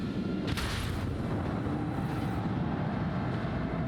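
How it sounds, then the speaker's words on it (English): Torpedoes launching in the Warhammer 40K Rogue Trader video game, a dense rumbling barrage with a sharp burst near the start that rolls on loud and continuous under steady engine drone. "Torpedoes!"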